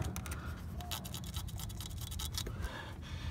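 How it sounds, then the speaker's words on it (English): Engine of a 2004 Toyota Sienna with 177k miles being turned by hand near the timing belt, giving a close scratchy rubbing and ticking sound with irregular scraping bursts over a low rumble. "Sounds like a rubbing noise, but I'm thinking it's the belt."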